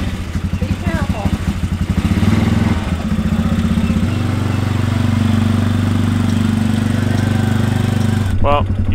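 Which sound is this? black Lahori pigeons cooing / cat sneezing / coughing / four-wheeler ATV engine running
four-wheeler ATV engine running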